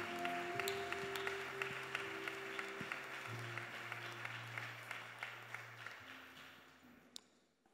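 Church congregation applauding together during a worship service, steady clapping sustained throughout with a few sharper claps standing out, fading slightly toward the end.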